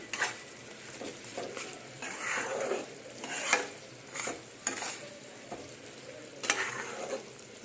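Amla (Indian gooseberry) cooking for pickle in a pan, soft sizzling and bubbling with intermittent spoon scrapes and light clinks against the pot, close and fairly quiet, no talk.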